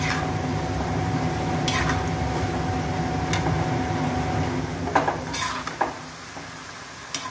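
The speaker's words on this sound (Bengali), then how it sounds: "কাটা নিমকিগুলো এইভাবে ভেজে নেব আর এইভাবে রেডি করে নেব।" Nimki, a savory snack, frying in oil: steady soft sizzling and bubbling throughout, with a few light clinks of a utensil against the pan toward the end.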